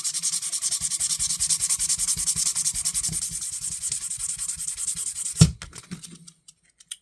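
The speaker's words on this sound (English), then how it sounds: "So I've got a piece of 600 grit here. I'm just going to go lightly over the end." Light hand sanding of a vintage Utica Knife Company Girl Scout Featherweight knife with 600 grit sandpaper: close, rapid back-and-forth rasping strokes for about five seconds, then a tap and quiet.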